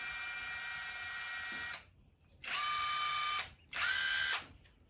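A Hercules 20-volt cordless power tool on a 2.5 amp-hour battery, run on power setting 2 in a garage engine project. It whirs loudly in three sustained bursts separated by short pauses, close by, with no talking.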